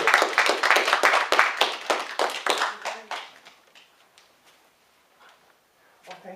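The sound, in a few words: round of applause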